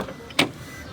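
Someone climbs into a car and shuts the door: a single short, sharp thud close by, standing out from a quiet background hum.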